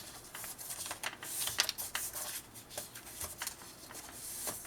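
Sheets of paper being folded for a scrapbook album made of reinforced paper bags give off soft, intermittent crinkles and rustles in short bursts, close by and fairly quiet, with no talking.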